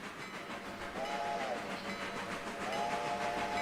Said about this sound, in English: The AI pulls the whistle for crossings and whatnot.